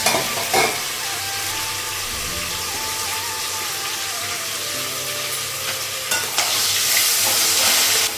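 Onion and a fish head fry in a pan in a home kitchen, giving a loud, continuous sizzle that swells brighter in the final seconds, with occasional scrapes of stirring.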